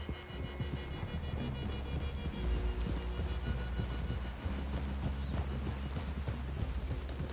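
Horse hooves clip-clop steadily at close range in the video game Red Dead Redemption 2, several horses walking together over ground, with a low rumble of thunder or rain beneath and no talking.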